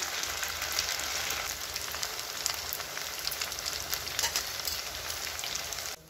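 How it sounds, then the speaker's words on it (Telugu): Semiya (vermicelli) pakoda fries in hot oil, giving a steady, close, crackling sizzle with dense bubbling pops that continues throughout and stops abruptly at the end, with no talking. "ఇంత ఎర్రగంత వరకు ఇవి ఫ్రై చేసుకోవాలి."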